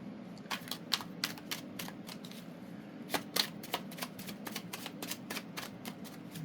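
Tarot cards shuffled and drawn by hand, producing a close, crisp run of riffling snaps and slaps in an irregular rhythm, with no voices.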